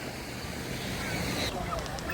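Sea surf washes onto a crowded Odesa beach on a hot summer evening, a steady broadband rush mixed with wind buffeting the microphone, continuous and fairly loud with no clear break.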